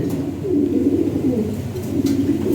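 A pair of red Lahori pigeons coo in a low, continuous rolling burble, close by and steady throughout, with faint background noise.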